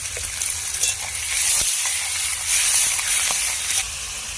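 Chopped tomatoes hit hot chicken biryani masala in a pan, producing a loud, steady frying sizzle that swells and eases, with occasional stirring scrapes.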